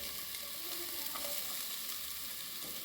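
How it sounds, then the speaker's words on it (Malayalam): Onion frying in a pan during a home cooking challenge, giving a steady, close hiss of sizzling with light stirring scrapes, no voices. "കുറച്ച് ഉള്ളി ഇട്ടിട്ടുണ്ട്."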